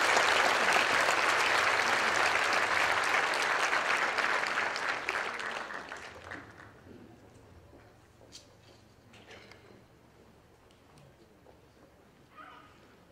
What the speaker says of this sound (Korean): 그 박수로 맞이하도록 하겠습니다.